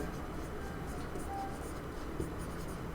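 Pen or chalk scratches steadily across a writing surface as a Class 10 math solution on areas of a square and circles is worked out, a soft continuous scraping with faint strokes and no talk.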